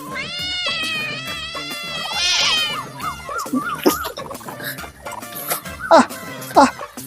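A cat meows repeatedly in drawn-out, wavering cries, close and clear, while people move and talk nearby.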